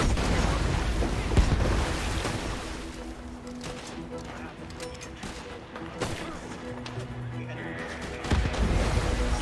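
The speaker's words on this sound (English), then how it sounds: "Dynamite! They're throwing dynamite!" Dynamite explosions in the Red Dead Redemption 2 video game rumble through dense, continuous gunfire, with heavy booms standing out in a loud shootout while a voice talks over the din.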